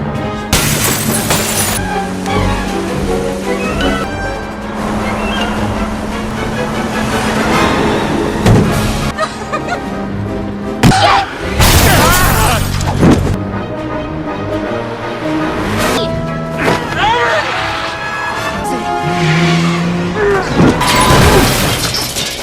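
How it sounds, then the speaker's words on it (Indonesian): A car crashes in a film chase scene, with repeated loud bursts of shattering and breaking glass, metallic crunches and impacts set against a dense, loud soundtrack. "Kecelakaan tunggal itu dimanfaatkan Ted buat kabur walau sedikit terluka"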